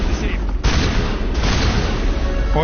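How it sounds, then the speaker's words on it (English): Gunfire in Mass Effect Legendary Edition, a dense run of loud, booming shots and blasts packed close together throughout, with a brief sharper crack near the end. "Y'all still shooting at something? What are y'all shooting at?"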